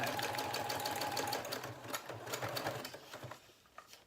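A sewing machine zigzag stitching through junk journal pages, whirring steadily up close and then slowing into a few short bursts.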